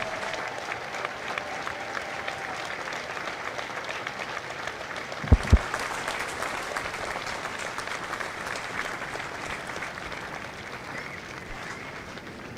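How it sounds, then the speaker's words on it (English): Steady audience applause at a Marine Corps recruit graduation ceremony at MCRD San Diego, a broad continuous clapping wash lasting throughout, with a couple of sharp thumps partway through. "Ladies and gentlemen, a round of applause for their dedicated service to Corps and country."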